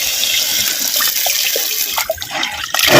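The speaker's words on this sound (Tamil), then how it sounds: "பச்சை தண்ணி சேர்த்துக்கிறேன்." Water is poured into a pan of mutton fry with green chillies, a loud, continuous splashing stream that briefly falters and gurgles before surging again at the end, with no voices.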